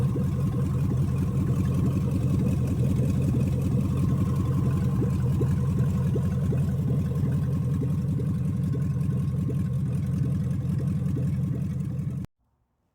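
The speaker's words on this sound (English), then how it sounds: "One way or another, we now have this engine running." A rough, uneven old engine with a misfire idles steadily and close by, its rhythm lumpy and irregular, then cuts off abruptly near the end.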